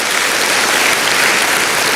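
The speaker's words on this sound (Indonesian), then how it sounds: "Tepuk tangannya pula yang paling meriah buat Tuhan kita." Church congregation applauding, dense and loud continuous clapping from a large crowd filling the room, steady throughout with no talk.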